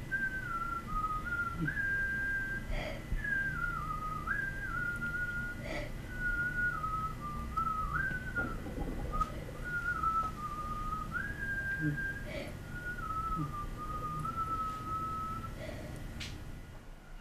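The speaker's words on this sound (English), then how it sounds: "Is that you whistling?" Someone whistles a wandering melody, steady and close, with soft background noise and a few faint knocks.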